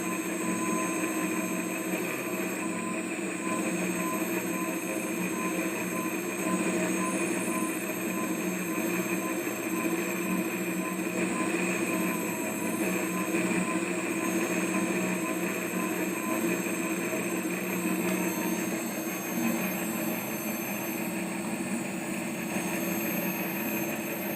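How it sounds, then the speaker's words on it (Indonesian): A prototype power take-off generator motor gradually rising in RPM, a steady mechanical hum with sustained tonal lines, running continuously with no talking. "Perlahan nilai RPM motor akan naik."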